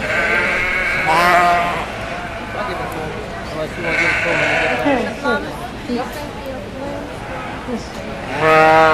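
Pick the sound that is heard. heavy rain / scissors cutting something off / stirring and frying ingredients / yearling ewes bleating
yearling ewes bleating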